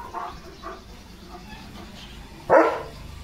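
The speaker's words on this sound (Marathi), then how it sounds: "एवढं भुंकायला कोणी लावलंय तुला." A German Shepherd barks outdoors on a village morning, a few fairly faint barks early on followed by one loud, close bark near the end.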